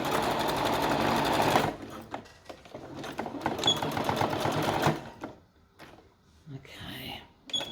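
A sewing machine stitches elastic onto a pair of shorts. It makes a loud, fast whirring run at the start, then shorter, stop-start bursts with quieter handling noise.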